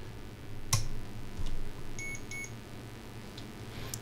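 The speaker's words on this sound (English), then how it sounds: "So when I turn on, you will hear a beep again." A power supply tester hooked to a Lian Li SP850 SFX white PSU gives two short, clear electronic beeps in a quiet room, preceded by a brief click.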